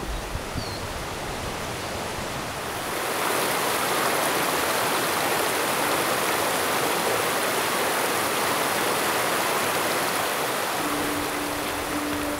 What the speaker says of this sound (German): Man hört den Wasserfall schon rauschen.